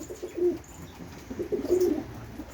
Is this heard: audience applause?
no